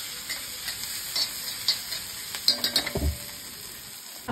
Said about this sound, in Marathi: आलं लसूण पेस्ट घालून घेते थोडीफार, ते सुद्धा छान अशी परतून घ्यायची आहे